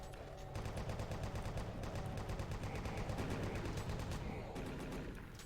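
Rapid chaingunner gunfire crackles through a Doom map, sustained bursts of fast shots overlapping in a dense, steady stream at moderate volume.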